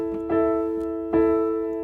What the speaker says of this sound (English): All I'm going to do is play quarter notes here.